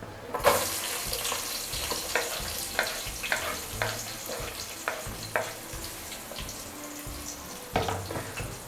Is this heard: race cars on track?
no